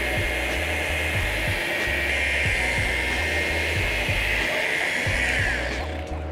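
A sanding machine is guided across car paint during wet sanding, giving a continuous, close, even whine with a low rhythmic pulsing underneath and no talking.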